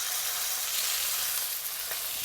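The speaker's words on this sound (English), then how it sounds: "Put them in, don't move them around first. We want to sear them really good." Pork chops hit a hot cast iron wok and sear with a loud, steady broadband sizzle that holds without pause, with no talk over it.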